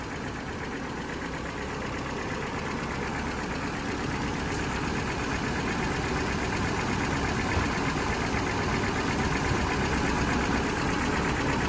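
A car engine idles steadily with the battery cable disconnected during an alternator test, a continuous close rumble that runs without a break and grows slightly louder toward the end.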